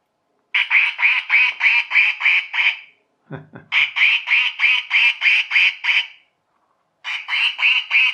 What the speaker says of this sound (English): It quacks and it flashes.